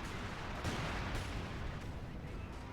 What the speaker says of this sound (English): We got artillery called in on the point